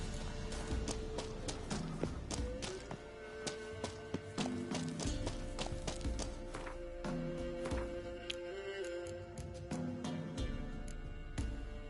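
Hooves of the horse Roach in the video game Witcher 3, a steady rhythmic clatter of galloping running throughout with game music underneath.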